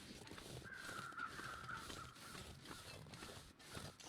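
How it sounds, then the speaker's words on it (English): Loud crows caw repeatedly in The Long Dark, a harsh rasping chorus laid over a steady windy outdoor ambience in a snowy game wilderness. "Oh, the loud crows."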